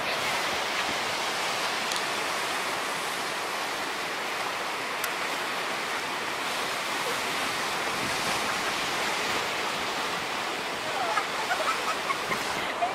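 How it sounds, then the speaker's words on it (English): Waves wash onto a beach in a steady, moderately loud surf roar with some wind, continuing without a break. "This beach is awesome."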